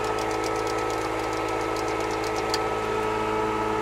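An excavator engine with a Lehnhoff quick coupler revs under throttle, a steady mid-pitched diesel drone with a rhythmic knocking pulse, close and constant throughout.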